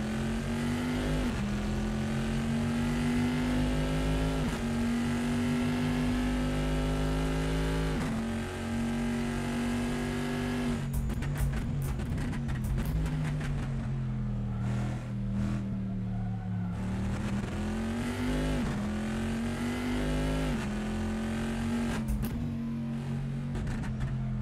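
GT2 race car engine lapping Laguna Seca in Assetto Corsa, a loud sustained howl that climbs steadily through the gears with brief dips and sharp shifts, then drops on lift-off and builds again, alone without talk.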